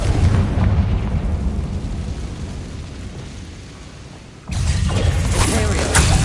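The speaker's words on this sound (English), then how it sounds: "Confringo" A Confringo fire spell explodes in Hogwarts Legacy, first as a heavy rumbling roar that slowly fades. A sudden loud crashing burst with debris-like clatter then breaks in near the end.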